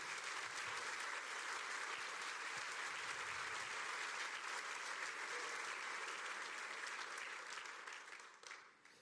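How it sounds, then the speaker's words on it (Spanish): A church congregation applauds during a sermon, sustained broad clapping at an even level for several seconds before thinning out near the end. "Dele un aplauso al Señor."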